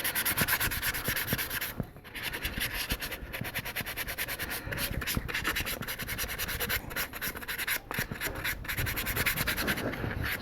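Hand sanding a steel knife blade by hand, steady scratchy rubbing strokes repeating close up and continuously, with brief pauses between passes and no speech.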